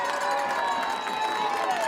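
A high school football crowd at Algonquin's home game against Shepherd Hill rises to its feet with a sustained roar of cheering and shouting, loud and continuous across the stands.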